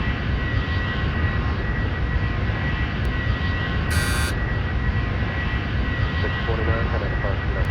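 Airbus A310 jet engines in the Airline Commander game, a loud, steady, dense engine roar held throughout, with a brief high chirp midway and soft voice-like sounds near the end.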